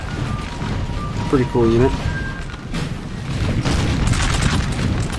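Cannon fire in the Napoleon Total War 3 multiplayer battle, booming shots rumbling under game ambience with someone talking over them.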